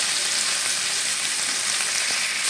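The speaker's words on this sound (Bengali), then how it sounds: "সবজি দেওয়ার পরে আমি একটু জাস্ট তেলের সঙ্গে নেড়ে নেব এপিট ওপিট" Vegetables are fried in oil and turned over in the pan, a loud, dense, continuous sizzle heard up close throughout, with no talk.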